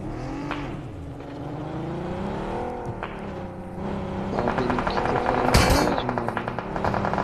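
Car engine in an online shooter video game, revving louder as the vehicle approaches, with sharp gunfire-like bursts mixed in over a steady game soundscape.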